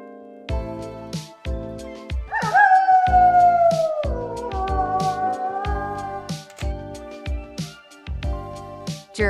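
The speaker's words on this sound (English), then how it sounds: "Wolf." A wolf gives one long, gliding howl that rises and then slowly falls. It is set against a bouncy musical backing of plucked, repeating notes.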